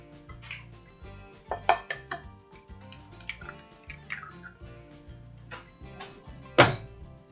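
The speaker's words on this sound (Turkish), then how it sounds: "Yumurtamı kırıyorum. İki tane koyuyorum." Two eggs cracked into a bowl while preparing a banana walnut mosaic cake, with sharp close taps and small clinks standing alone in a quiet kitchen.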